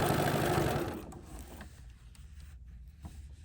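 A BERNINA 990 sewing machine running decorative stitching with black thread on a quilted watermelon mat, a steady mechanical whir that fades after the first second into quieter, uneven clicks and motor hum.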